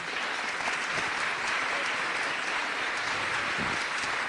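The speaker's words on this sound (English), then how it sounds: "Let's give them a round of applause." Steady, dense audience applause at the 2008 Little Rock Film Festival after a film screening and discussion, a continuous wash of many hands clapping for the full length without speech.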